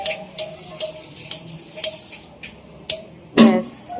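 A gas stove igniter ticks in an even rhythm of sharp clicks before the burner catches with a brief, louder whoosh, close by and with no talk, while cooking khichuri during a Vishwakarma puja.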